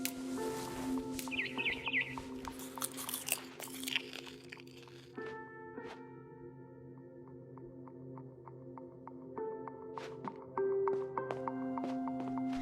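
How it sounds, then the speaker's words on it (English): A barn swallow chirps outside a window in What Remains of Edith Finch, with a few quick high chirps early on over crunchy chewing noises and sustained game music tones. "Then I heard chirping outside my window."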